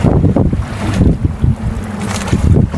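Strong wind buffets a small fishing boat out at sea, a steady loud roar with gusty rumbling bursts and wave wash, close to the microphone with no talk.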